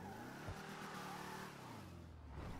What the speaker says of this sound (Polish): Dźwięk silnika mógłby być lepszy, ale tragedii nie ma.